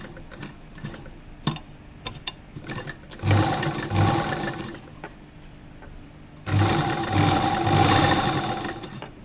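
An electric sewing machine stitches an A-line kurta in two runs, each a steady whirring roar of several seconds. Between the runs come scattered clicks and ticks of handling the fabric.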